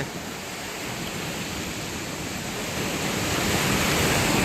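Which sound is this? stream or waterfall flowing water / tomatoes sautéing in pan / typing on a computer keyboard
stream or waterfall flowing water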